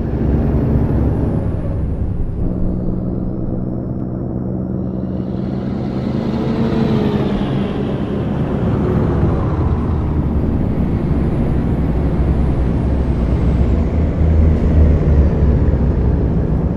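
Continuous road traffic drone from the Euro Truck Simulator 2 video game, heard from inside a truck cab with the window shut, a steady low engine and tyre rumble with passing vehicles and occasional air-brake-like hisses, loud and unbroken throughout.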